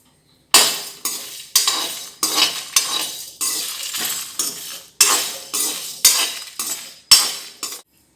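Spices lightly fried in a pan for a dry chicken fry, stirred with a utensil in a dozen or so regular scraping strokes, each a loud, close rasp fading before the next, with no voices.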